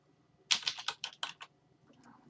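Fingers tap a computer keyboard in a quick run of about eight crisp keystrokes, close and fairly quiet, followed by a few faint clicks, with no talking.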